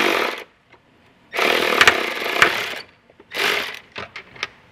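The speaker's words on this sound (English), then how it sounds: "we'll swap to a 10 millimeter socket and get those out" A 10 mm socket tool spins off two stubborn nuts from their studs during a hidden hitch receiver install, heard as three loud, close whirring bursts with short pauses and small clicks between them.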